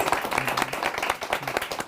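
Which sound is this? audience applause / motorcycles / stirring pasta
audience applause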